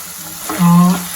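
Tandalja greens get stirred in a pan with chutney powder over a low sizzle, and a short tonal hum or voice-like sound rises briefly in the middle.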